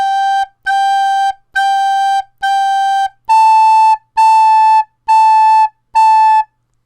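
A recorder plays eight detached quarter notes in a steady beat, four on G and then four on a higher A, each tongued cleanly with brief silences between, solo and close.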